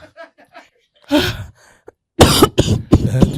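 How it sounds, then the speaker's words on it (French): A few sharp, forceful coughs burst out close by, loud and abrupt, with quieter breathy sounds and a short pause before them. "Tu tousses quoi?"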